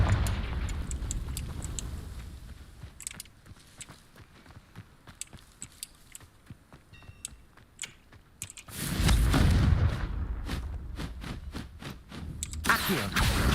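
Confringo blasting spells in Hogwarts Legacy erupt as loud, broadband bursts, with a big blast near the middle and another near the end, between stretches of quieter footsteps and scattered impacts.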